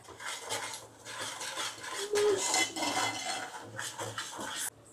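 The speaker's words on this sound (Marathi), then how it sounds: "मस्तपैकी मसाल्यांमध्ये आता मुशीला आपण मिक्स करून घ्यायचं आहे" Pieces of shark fish are stirred into cooked masala in a pan, making close, continuous scraping and clinking of a utensil against metal in uneven strokes, with no speech.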